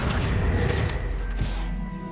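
A Confringo spell in Hogwarts Legacy lands as a single loud, crashing blast that dies away into a rumbling tail, with no talk over it.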